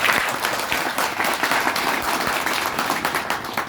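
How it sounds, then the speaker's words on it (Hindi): An audience applauds a speaker at a Jan Suraaj event with steady, dense clapping that stays loud and continuous throughout. "एक बार जोरदार ताली बजाइए सर के लिए।"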